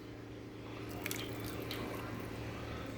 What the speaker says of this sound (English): So now I put a little bit of water in, not a lot.